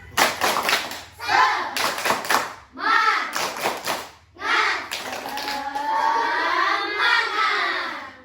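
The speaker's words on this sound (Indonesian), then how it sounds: "Tepuk semangat." Schoolchildren in a classroom perform a patterned spirit clap, bursts of rhythmic hand clapping and desk taps between chanted voices, loud and close.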